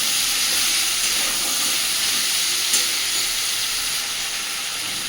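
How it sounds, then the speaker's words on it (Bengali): Ridge gourd frying in a pan for a Bengali jhinge aloo posto, a loud, continuous, even hiss of sizzling oil heard up close and alone. "ঝিঙেগুলো একটু মজে যাওয়া পর্যন্ত আবারও খানিকক্ষণ ভেজে নেব।"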